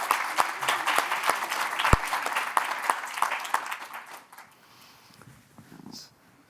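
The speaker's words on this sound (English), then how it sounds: "Let's just do a huge round of applause for both of them." Audience applause welcoming two speakers at the start of a fireside chat at a 2024 conference on music, brain and health: a dense run of claps from a crowd, loud at first, then thinning out and fading over about four seconds.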